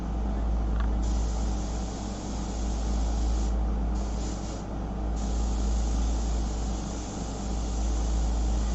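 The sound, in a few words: airbrush test spray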